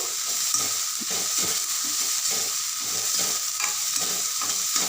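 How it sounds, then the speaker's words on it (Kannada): Vegetables fry in a pan as salt goes in, with a steady, close sizzle broken by repeated scraping stir strokes throughout and no voices. "ಸ್ವಲ್ಪ ಸಾಲ್ಟನ್ನ ಹಾಕ್ಕೊತಾ ಇದ್ದೀನಿ ಹಾಕ್ಕೊಂಡು ಅದನ್ನು ಚೆನ್ನಾಗಿ ಫ್ರೈ ಮಾಡ್ಕೊಬೇಕು"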